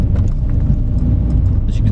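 A 2013 MINI One automatic driving slowly over a potholed, bumpy road, steady low engine and road rumble with small thumps, heard from inside the car.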